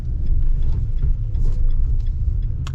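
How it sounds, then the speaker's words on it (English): A 2021 pickup truck, either a Chevy Trail Boss or a Nissan Titan Pro-4X, rolls over railroad tracks with a steady low road rumble and a few faint clunks. One sharper knock comes near the end. No one speaks. "Going over the train tracks here"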